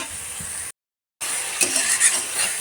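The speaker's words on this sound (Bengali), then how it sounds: "এই সবজি মশলাটা এবার ভালো মতন কষিয়ে নেব" Vegetable masala spice mix stirred and fried in a pan over low heat, a spoon scraping through it against a soft steady sizzle, broken by a brief silent gap before the stirring resumes with a few light clinks.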